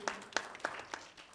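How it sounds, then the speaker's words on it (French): A few people at a film club screening clap for Mama Mekinda, sparse, separate claps spaced roughly evenly, fairly faint and thinning out toward the end. "Je crois qu'on va applaudir pour Mama Mekinda, cette maman forte"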